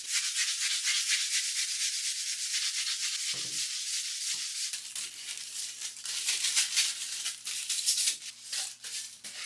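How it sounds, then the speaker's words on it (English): A Bosch electric sander works over the flat surfaces of a wooden French Provincial nightstand, producing a loud, continuous abrasive whirring rub. A low motor hum joins partway through, and no one speaks. "I also use my Bosch sander again for the larger, flatter surfaces"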